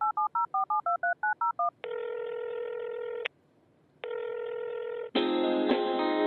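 A telephone number is dialed on a touch-tone phone: a quick run of about ten crisp keypad tones, then steady ringback tones with a pause between them, and finally a harsher, louder line tone.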